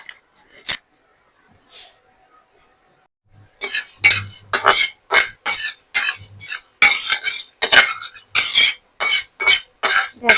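Clinking and scraping of a utensil against a pan in quick bursts, with frying sizzle and stirring of whole cardamom, cinnamon, cloves and mace, nearby and fairly loud.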